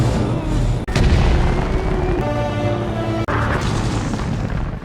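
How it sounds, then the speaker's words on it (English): A massive explosion in a movie truck chase, where an oil tanker is rammed and blows up, gives a loud sustained roar and rumble with sharp cuts and booming bursts that fill the whole clip. "Luo rammed the truck into Owen's oil tanker, causing a massive explosion that sent the 3 trucks flipping end over end."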